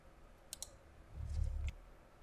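Mouse clicks on a computer while opening the Desmos graphing site: two faint, crisp clicks close together, a low soft rumble, then one more quiet click.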